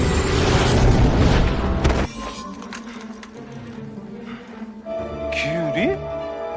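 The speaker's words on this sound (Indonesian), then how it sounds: "Yang ternyata benda yang dilemparkan wanita itu adalah sebuah bom." A bomb explodes in a drama, a loud broadband boom lasting about two seconds before it drops to a quieter rumble, with spoken narration over it.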